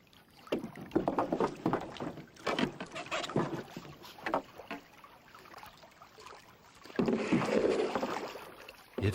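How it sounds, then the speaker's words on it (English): A solo canoe paddled on a river: irregular splashes and watery strokes, with gurgling against the hull and a louder surge near the end, close and fairly quiet with no talk. "It felt great to be back in my canoe"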